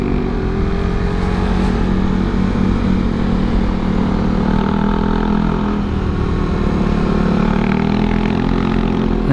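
A Suzuki Satria fuel-injected motorcycle engine runs hard in second gear, a loud continuous drone that holds steady throughout, with no talking.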